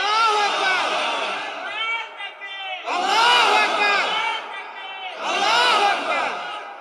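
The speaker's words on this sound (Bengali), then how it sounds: "কেউ তো স্লোগান দেন না, দেন না স্লোগান, দেন একজন শুরু করেন" A large crowd at a Bangla religious sermon chants a slogan in call-and-response, with three loud swelling waves of massed voices and short pauses between them.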